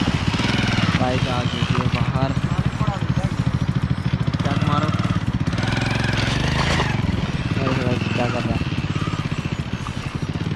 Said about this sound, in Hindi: गाइस वहाँ से आ रहा है ट्रैक्टर।